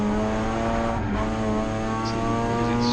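Mazda RX8 cup car rotary engine droning at steady high revs on track test laps, a loud sustained harmonic buzz heard from onboard with a slight dip in pitch midway.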